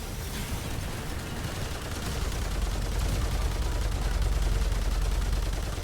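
Dense, continuous gunfire rattles in the video game Remnant 2 with a tank HUGS build, a loud sustained barrage of rapid shots with a deep rumbling low end and no speech.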